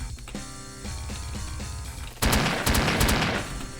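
Rapid chaingun fire from a chaingunner enemy in Doom, a loud continuous burst of gunfire breaking out after a stretch of quieter game sounds and music.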